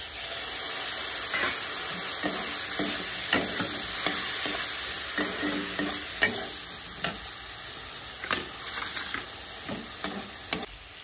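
Vegetables and spices are sautéed and stirred in a pan for a leftover-rice dish, with continuous sizzling broken by repeated scraping strokes of the spoon against the pan, close and fairly loud, with no talking.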